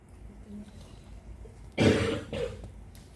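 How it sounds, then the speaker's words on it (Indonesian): A person coughs sharply a couple of times, close by and loud against a quiet room. "Batuk"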